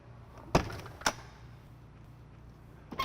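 Front entry door of an Entegra Aspire diesel Class A motorhome, heard as two sharp knocks or latch clunks close together, then a third quieter click near the end, over a quiet room.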